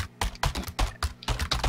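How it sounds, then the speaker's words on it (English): Rhythmic clacking of the Model M keyboard instrument in Starbound, about seven loud percussive keyboard smacks in an uneven beat, played alone with no voices. "It's Model M. You think it'll sound like some program because it looks like a keyboard. But it's literally somebody smacking the keyboard down."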